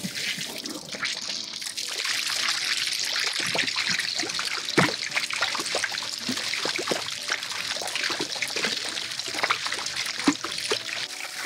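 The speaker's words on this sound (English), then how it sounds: "And like that, we have our mini waterfall." Water from a pool toy mini waterfall trickles and splashes continuously at close range, a steady, busy patter with scattered small drips throughout.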